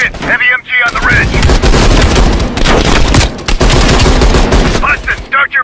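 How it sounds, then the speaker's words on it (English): Heavy machine gun fire rattles loudly and nearly nonstop on a battlefield ridge, dense bursts overlapping with booms and distant shots, while shouted voices break through at the start and end. "Heavy MG on the ridge!"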